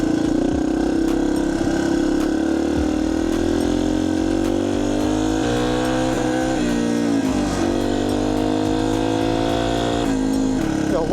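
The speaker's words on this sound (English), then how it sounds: "this is not bad for a 20-year-old dirt bike" An old Yamaha TTR230 dirt bike engine running close and loud, a steady buzzing drone with small throttle blips and shifts in pitch throughout.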